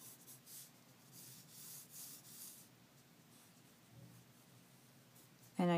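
A pen scratches doodle lines across paper in soft, rhythmic rubbing strokes, faint and close, with a brief louder knock at the end.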